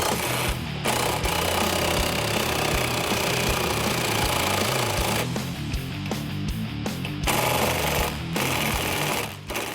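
Impact or air tool rattling as the strut nut is tightened on a Mustang's KONI front strut, a loud, steady buzzing hammer that runs through most of the stretch with brief breaks.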